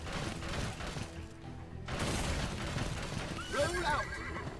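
In the video game Paladins: Champions of the Realm, a horse whinnies loudly near the end, over a steady bed of hoofbeats and clattering game ambience.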